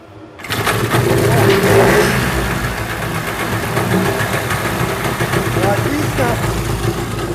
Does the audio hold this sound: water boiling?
no